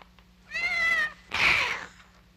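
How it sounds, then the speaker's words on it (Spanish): Two drawn-out cat meows, the first a clear tonal cry and the second a harsher, breathier one, heard close and alone over a low hum in a 1968 Mexican horror film. "Nunca me ha querido ese gato."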